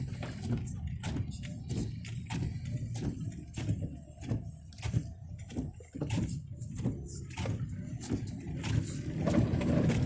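Vehicle tires spinning and flinging mud on a deep, muddy woodland trail, a steady low churning roar with repeated splattering bursts throughout, loud and close.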